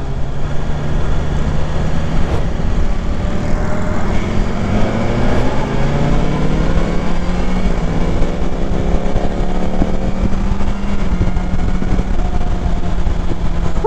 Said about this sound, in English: It's almost like that throaty diesel sound.